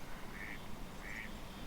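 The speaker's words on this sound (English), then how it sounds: "Ducks splashing around." Ducks quack twice in short, moderately distant calls on an early-morning countryside pond, over a steady low background wash.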